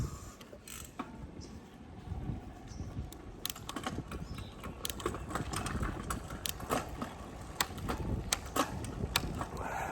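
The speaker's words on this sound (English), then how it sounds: "Gear shifting." Bicycle gears shifting on an upgraded Birdy folding bike during a ride, heard as scattered faint metallic clicks and ratchety ticks over a steady low rolling rumble, with no speech.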